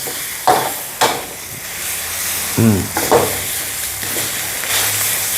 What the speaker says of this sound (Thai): เอาแล้วใส่หมูลงไปแล้วเรียบร้อยผัด